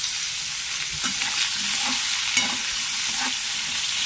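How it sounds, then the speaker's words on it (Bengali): Small mourala fish fry in hot oil in a pan, giving a dense, continuous sizzle close by, with a few soft scrapes as they are stirred and turned, and no talking. "দেখুন সব কটা মাছ ভেজে নিচ্ছি ভালো করে"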